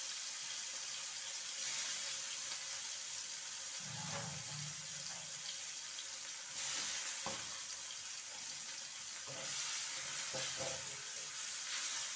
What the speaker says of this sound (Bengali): পেঁয়াজটা একটু ভাজা ভাজা হয়ে গেলে